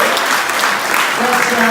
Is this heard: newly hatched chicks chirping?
no